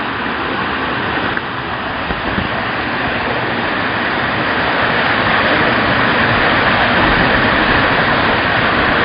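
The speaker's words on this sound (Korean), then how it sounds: "폭포 상단에 올라왔습니다" Song Sou waterfall in Laos during the dry season, a steady broadband rush of falling water, dense and constant throughout with no voices.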